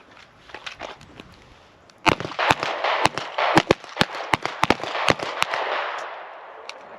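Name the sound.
gunshot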